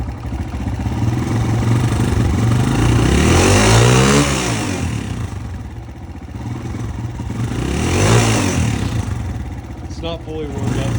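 A Kawasaki KLX140G dirt bike engine running cold after its carburetor was cleaned, idling roughly and bogging, with two slow revs rising and falling up close, a person speaking over it.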